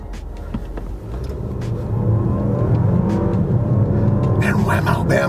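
A 2024 Dodge Hornet R/T compact SUV pulls away hard from a standstill in launch-control style, its engine rumble climbing steadily and staying loud inside the cabin, with someone talking over it.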